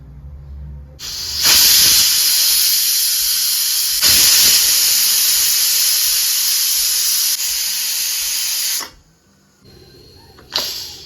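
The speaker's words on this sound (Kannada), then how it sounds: "ವಿಷಲ್ ಆಗೋವರೆಗೂ ವೇಟ್ ಮಾಡಬೇಕಾಗುತ್ತೆ." A pressure cooker cooking Mangalorean mutton gravy lets off loud, sustained hissing steam bursts, one long release with a second surge partway through, then it cuts off and a brief spurt follows near the end.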